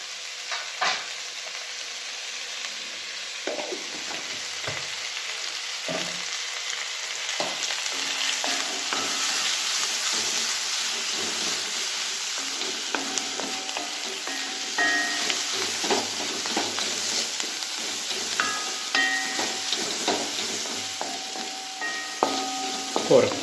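Cassava puzhukku masala with turmeric powder sizzles steadily in a pan, with frequent scraping and clinking strokes of stirring throughout, close and fairly even in loudness.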